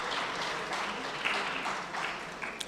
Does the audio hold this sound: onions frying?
no